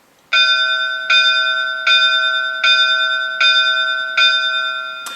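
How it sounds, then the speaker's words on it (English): The bell of an HO-scale model New York Central 4-8-4 Niagara locomotive rings brightly six evenly spaced times, each strike ringing out clearly with a sustained tone before the next. "one thing I don't think I've shown you guys is the bell"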